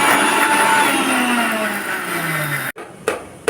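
A kitchen mixer grinder whirs loudly and steadily while crushing mustard seeds and two green chillies, its motor pitch gliding downward before cutting off abruptly, followed by brief clatters.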